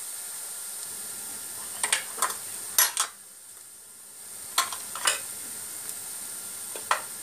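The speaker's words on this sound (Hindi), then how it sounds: "अनियन जो है फ्राई हो चुका है, अब हम इसमें जो है कश्मीरी लाल मिर्च डालेंगे 1/2 टीस्पून।" Fried onions sizzle steadily in a pan as Kashmiri red chilli powder goes in, with a constant hiss of frying and a few sharp clinks of a spoon against the pot.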